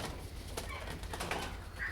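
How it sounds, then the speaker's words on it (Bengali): Pigeons at a pigeon farm in Bakshiganj, Jamalpur, including Shirazi pigeons, give soft cooing and light rustling against a dense, close background murmur, with brief flutters now and then and no voices. "আমার কাছে কয়েক জাতের কবুতর আছে"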